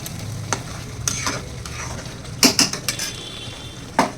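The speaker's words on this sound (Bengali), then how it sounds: "এটাকে মশলার সঙ্গেই কষাতে হবে" Prawns are gently sautéed with spices in a pan, a low sizzle under repeated sharp scrapes and clanks of a spatula against the metal, several in quick succession, no talk.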